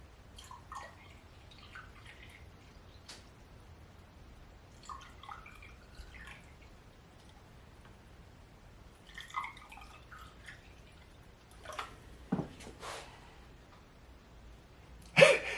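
Water poured into a Volkswagen GTI 2.0T cylinder head during a valve leak check drips in scattered, sparse patters and splashes, quiet overall with a few sharper drops toward the end.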